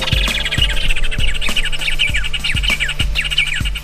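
Swallow tanagers and other songbirds chirp at dawn on a Pantanal plateau, a dense layer of high, rapid repeated tweets and calls, near and steady, over low rhythmic thumps in the background.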